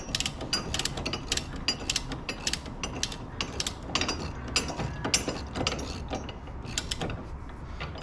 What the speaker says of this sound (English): we're gonna get these tightened up, and these require 150 foot-pounds of torque to be tightened up